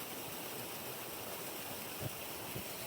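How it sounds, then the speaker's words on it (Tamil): Steady rushing of a clear-water waterfall in Lathkill Dale, a continuous broadband roar with no pauses, moderately loud and close, with no voices. "அழகான நீர்வீழ்ச்சி, அதில் வேகமாக ஓடிக்கொண்டிருக்குது."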